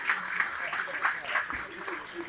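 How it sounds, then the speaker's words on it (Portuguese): A room of people eating lunch breaks into sustained applause, a dense, even patter of many hands running steadily throughout with no break. "Uma salva de palmas para vocês."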